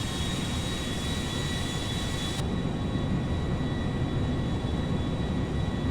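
A modded Boeing 777 airliner in GTA 5 takes off with a steady, loud jet engine roar and broadband rushing, continuous throughout with a faint high whine.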